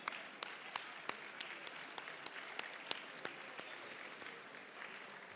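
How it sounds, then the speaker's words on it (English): An audience at an awards gala gives a round of applause: steady, even clapping from a seated crowd, heard at a modest level with occasional sharper individual claps standing out. "please, Evelyn, stand up for a round of applause"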